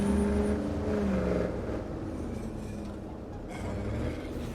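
A car driving in a video game, its engine giving a steady droning hum that swells slightly and eases off, fairly loud and without speech.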